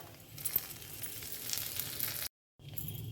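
Coriander and cumin seeds sizzle in hot ghee over a low flame, making a steady close crackle with a few sharper pops, broken by a brief silent gap near the end.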